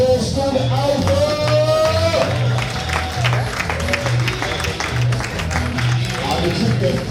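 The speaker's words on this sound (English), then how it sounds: "A round of applause for the Alpha." Audience applause and crowd noise fill a book launch event for a civil litigation title in Kenya, a steady dense clapping that carries on beneath background music and a voice.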